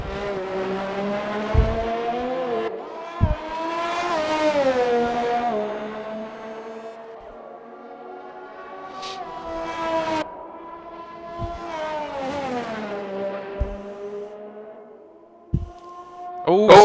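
In a sim racing game, a race car laps at a Netherlands track, its engine note rising and falling through repeated gear changes with sharp shift pops. Loud and close, with occasional quiet stretches between runs.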